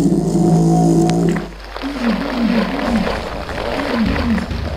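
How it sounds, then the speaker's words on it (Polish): A swamp shark, also called a mud snake, in the video game Gothic 2 lets out deep, guttural roars that repeat in rough waves over a low rumble and other game noise. "Wąż błotny kolejny, widzę."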